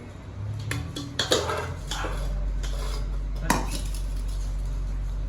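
A ladle scoops gravy from a metal pot, giving a few clinks and scrapes of metal on metal over a steady low hum in a home kitchen.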